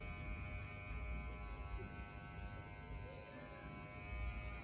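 Electric hair clippers buzz steadily and quietly while cutting hair in a barber class, a faint continuous hum with slight shifts as the blades move.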